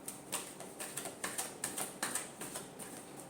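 Tarot cards being shuffled, giving a fast, even run of crisp papery taps and flicks, close and fairly quiet with no talking.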